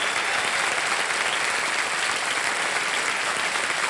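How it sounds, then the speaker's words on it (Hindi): Studio audience applause at a televised quiz show, a steady dense wash of clapping that fills the whole stretch without any voices. "अच्छा ताली बजा दीजिए"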